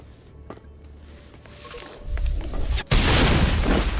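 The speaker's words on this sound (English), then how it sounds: "Ooh, good explosion." An explosion in the video game Mass Effect Legendary Edition erupts as a loud, sudden boom after a brief hush, then rolls on as a dense, sustained roar of noise.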